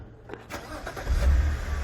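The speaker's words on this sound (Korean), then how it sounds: "예, 시동 꺼보세요. 예. 다시 한번 켜보세요." A BMW car engine fitted with aftermarket intake and exhaust devices cranks and catches, then settles into a steady low idle, close and clear with no talking.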